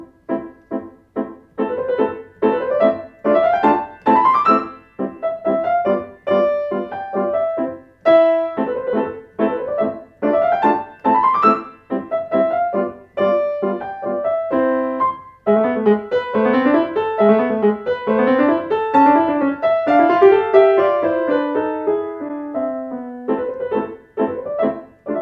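Burgmüller's Arabesque from Opus 100 played on piano, quick staccato figures and rising runs in a typical student performance, clear and close with no talking.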